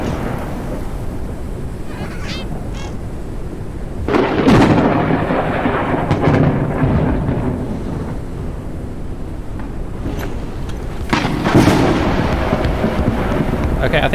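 Thunderstorm in the video game Forever Skies: a constant wash of rain and wind broken by two heavy, rolling thunder claps several seconds apart, each swelling and fading into the storm.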